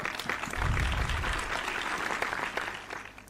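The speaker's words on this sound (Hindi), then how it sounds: "मैं आप तमाम से गुजारिश करता हूं कि डॉक्टर एहसन पठान साहब के इस्तकबाल में तालियों से उनका इस्तकबाल करें।" An audience at the inaugural session of an educational conference in Aurangabad breaks into warm, sustained applause to welcome a speaker. The clapping swells quickly, then gradually thins out over a few seconds.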